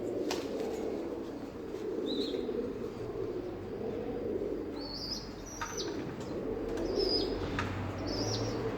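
Pigeons that are being cared for and treated coo softly and chirp now and then, with occasional wing flaps. A steady low hum sits underneath, and the birds are at moderate distance and fairly faint.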